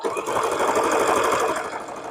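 Domestic sewing machine running steadily through a widened satin stitch on a quilt block, a dense continuous whirring drone held at close range for the whole stretch with no pauses.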